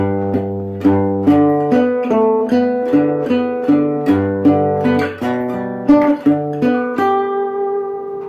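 An electric guitar plays rhythmic picked notes walking up through chord shapes, evenly paced attacks with ringing sustain and no talking.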